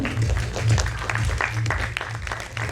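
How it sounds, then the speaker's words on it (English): Audience at the THRIVE 2023 speaker felicitation applauds in a steady dense clatter of many hands, moderately loud throughout with no pauses. "a big round of applause for sir as well"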